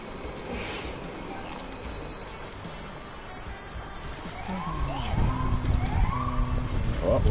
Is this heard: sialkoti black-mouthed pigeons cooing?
no